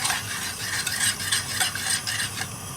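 A spoon stirs a tamarind chutney mixture in a pan over a high flame, producing repeated close scraping and sloshing strokes over a soft background sizzle, no voices.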